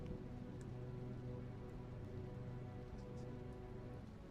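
Rain falls in a tabletop fantasy game session, a steady, dense hiss with a low rumbling bed that stays even throughout, with no voices.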